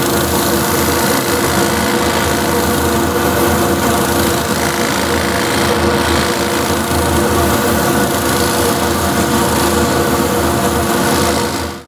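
A power sander with a sanding pad runs on wood in a woodturning shop, giving a loud, steady motor whine and broadband grinding hiss that stays constant for the whole stretch with no talk.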